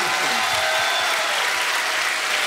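A studio audience applauding on a television show, a dense, steady wash of many hands clapping, loud and close, with a brief voice at the very start.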